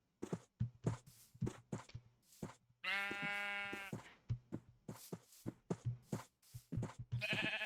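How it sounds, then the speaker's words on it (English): Sheep being herded toward pens give one long, wavering bleat in the middle, surrounded by a steady run of soft, regular thuds like hooves or footsteps, fairly quiet overall. "Almost got the sheep to the pens."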